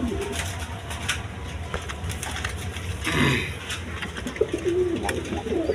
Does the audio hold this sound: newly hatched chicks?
no